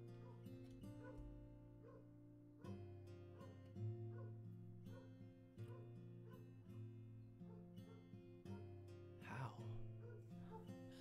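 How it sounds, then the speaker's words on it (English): Neighbours' dogs bark loudly in repeated yips and whimpering woofs, fairly close and irregular, with faint talk underneath. "There are loud dogs right now."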